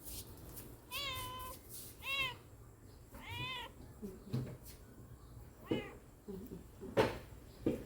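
A cat meows in a Thai home kitchen near an opened fridge, giving several clear, close meows in a loose sequence while someone talks between the calls.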